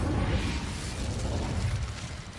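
Incendio fire spell cast in Hogwarts Legacy: a loud, steady roaring burst of flame that whooshes with heavy low rumble for a couple of seconds, with no voices.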